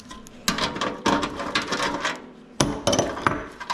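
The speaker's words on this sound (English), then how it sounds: "Now, of course, I gotta undo the nut" A bolt is worked loose on the core support of a 1964 Impala, producing repeated sharp metallic clanks and ratcheting knocks in irregular bursts, loud and close, with brief pauses between strikes.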